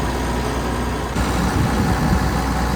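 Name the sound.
combine harvester diesel engine running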